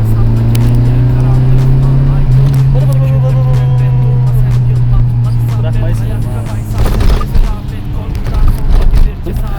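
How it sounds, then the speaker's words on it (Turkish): A Volkswagen Golf Mk II drives with a steady engine drone and exhaust note. The sound holds constant, then turns rougher and louder near the end, and voices talk over it. "Korna sesimiz ve egzoz sesine bayıldım."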